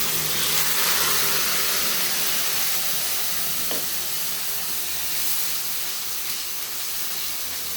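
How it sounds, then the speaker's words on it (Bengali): Ground spice paste frying in hot oil for paneer butter masala, a loud steady hiss and sizzle throughout with one faint knock partway. "এখন আমি মশলাটা যেটা বেটে রাখলাম সেটা দিয়ে দিলাম"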